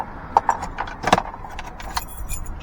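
A bunch of keys jangles close up at a laundromat door, a few quick bright metallic rattles and clinks, with a louder cluster in the middle and faint traffic behind.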